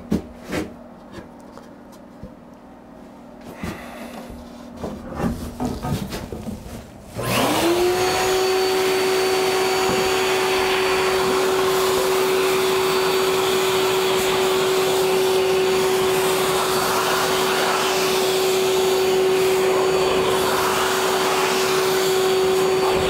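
An air blower clears debris off a carved wooden Christmas sign, starting with a rising whine that settles into a loud, steady rushing roar. Quieter scraping and handling noises come first.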